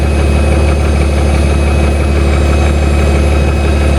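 A 1999 BMW 328i (E46) engine idles steadily at close range, a constant low rumble with an even mechanical hum that never changes pace.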